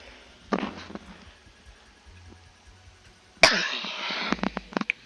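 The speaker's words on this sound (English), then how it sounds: "Had to clear my throat there." A person clears their throat with a short harsh burst, then a few rough follow-up sounds, heard close and alone against a quiet background of soft game music.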